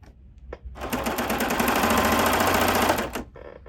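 A sewing machine stitches fabric for upcycled clothing in one fast, continuous burst of about two seconds, close and loud, with a few small handling clicks before and after.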